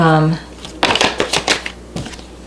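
Tarot cards shuffled and pulled from a deck, a quick burst of riffling and flicking card snaps following a brief spoken word, close and crisp.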